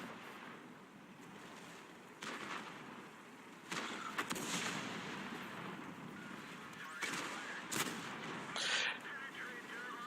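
Tank cannon shots in World of Tanks from a sniping position: several heavy booms spread across the stretch, sitting over a steady rushing background roar.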